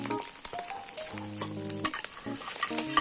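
Oil sizzles in a pan while egg fried rice with bologna is cooked, a continuous bright hiss broken by scraping, stirring and clinks of a utensil against the pan, close and with no talking.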